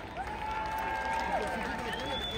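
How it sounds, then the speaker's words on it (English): Crowd applause and cheering at an outdoor Diwali celebration in London, welcoming young volunteers to the stage. The clapping is a steady, dense wash, with voices and a thin whistle-like tone riding above it. "give a big round of applause to all our young volunteers working today"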